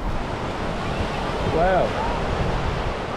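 Waves on South Beach in Hua Hin, Thailand, a steady broad surf wash with wind buffeting the microphone, and a person briefly exclaiming partway through.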